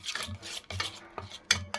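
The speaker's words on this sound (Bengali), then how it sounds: "সব কিছু মিক্সড করে নেব।" A spoon scraping and stirring oil-coated ingredients for a prawn curry (chingri bati chorchori) in a bowl, with repeated close, uneven clinks and wet rasping strokes.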